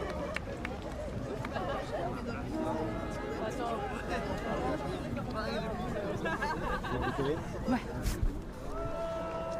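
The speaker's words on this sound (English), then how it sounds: "So you can see the crowd waiting on the dock." Crowd gathered on a dock awaiting a yacht finishing the Vendée Globe 2024 sailing race, a steady dense murmur of chatter and voices with music faintly underneath, fairly close and continuous throughout.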